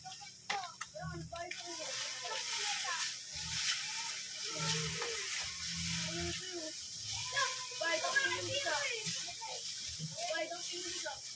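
Tocino, cured pork, sizzles and fries in a pan at a small roadside tapsilog stall, a steady broadband hiss running throughout beneath intermittent talk and clinks.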